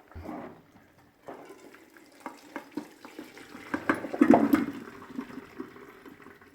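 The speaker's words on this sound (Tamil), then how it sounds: "தண்ணியை வடிச்சிடலாம்." Boiling water from a pot of cooked sweet potatoes pours and splashes in bursts into a sink, gurgling and sloshing, fairly close, with no talk.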